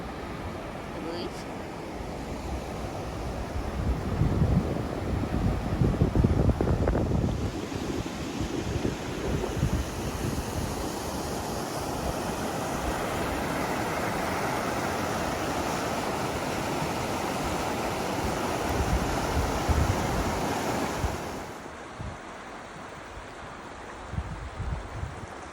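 The Tuolumne River, past Lambert Dome near Tuolumne Meadows, rushes with a steady broadband roar that runs throughout, joined by gusty, buffeting wind noise on the microphone.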